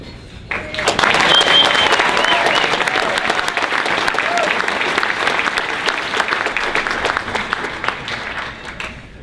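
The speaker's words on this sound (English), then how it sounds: "Ladies and gentlemen, would you join me in one more round of applause for our 24 veterans of the year." A luncheon crowd gives sustained, dense applause for veterans being honored. It starts abruptly, stays loud and full for about eight seconds, then eases slightly near the end.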